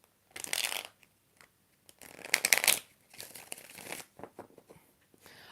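Tarot cards being shuffled by hand in several quick riffling bursts, two long crisp runs followed by shorter, softer flutters, close and clear with no talking.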